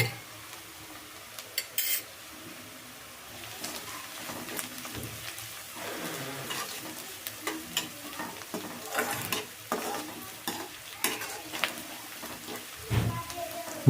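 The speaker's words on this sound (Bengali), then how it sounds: "ছোট ছোট করে রসুনগুলোকে আমি ভালো করে ভেজে নেবো" Chopped garlic sizzles in hot oil in a pan with half-fried onions for an egg keema curry, a close crackling fry broken by repeated scraping stirs and clinks of the spoon, without speech.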